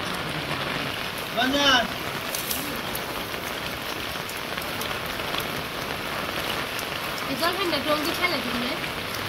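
Steady rain pattering on a surface throughout, with a voice speaking briefly near the start and again toward the end.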